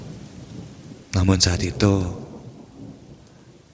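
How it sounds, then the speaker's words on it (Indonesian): Heavy, unrelenting rain falls with a rumble of thunder, a steady wash of rain under a short spoken line that breaks in partway through. "Memang sudah biasa jika terjadi hujan lebat yang tidak berhenti."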